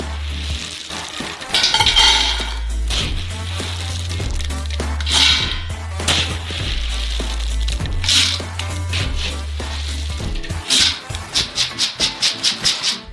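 Raw peanuts, part of a 50 kg batch for a giant Snickers ice cream, tumble and rattle into a large cooking pan, with stirring and scraping against metal, a steady low hum beneath, and a quick run of rhythmic clinks near the end.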